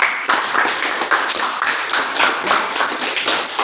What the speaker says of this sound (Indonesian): Salam tepuk tangan